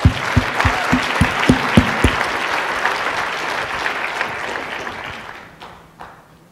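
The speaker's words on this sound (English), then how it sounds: "So can we just give them a round of applause" Round of applause from a conference audience for a gene therapy company's presenters, starting with a few sharp, loud claps and swelling into sustained clapping that fades out over the final seconds.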